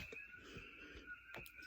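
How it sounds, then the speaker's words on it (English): Coqui frogs calling at night in Hawaii, faint background chirps with a steady high tonal chorus and a few sharper calls, distant and quiet with no talk. "Probably hear the Koki frogs in the background."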